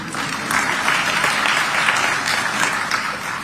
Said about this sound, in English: you'll clap for me on that one